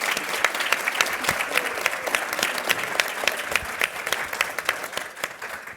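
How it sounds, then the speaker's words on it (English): A conference audience gives panelists a steady round of applause, dense clapping of many hands continuing evenly for several seconds without talk. "Let's have a round of applause for all our panelists."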